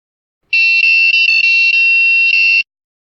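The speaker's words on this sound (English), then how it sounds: "When a valid end condition is reached, it sings a jingle." An electronic puzzle cube with an accelerometer chip, copper touch pads and capacitive touch plays a short bright electronic jingle when solved. The beeping melody is loud and alone and lasts about two seconds.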